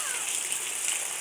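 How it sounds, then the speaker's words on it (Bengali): Heavy rain pours steadily all around, a dense continuous hiss of drops on water and surfaces, close and even throughout with no voices. "তো চারিপাশে অনেক বৃষ্টি হইতেছে"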